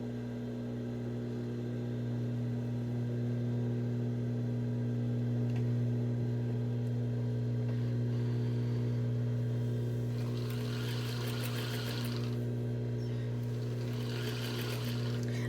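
A sewing machine stitches a dress lining around the armhole in a steady, continuous motor hum, with a couple of brief brighter rattling bursts near the end.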